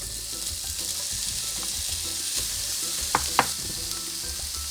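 Shrimp frying in a pan for Chinese-style shrimp fried rice, a steady close sizzle with occasional stirring and a couple of sharp utensil clicks, no speech.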